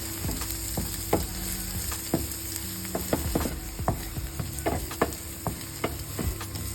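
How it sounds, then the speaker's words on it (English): Garlic and onion sautéing in a pan for a tofu and bok choy dish in oyster sauce, a steady close sizzle with repeated scraping stirs and utensil clicks throughout, no talking. "we saute garlic and onion"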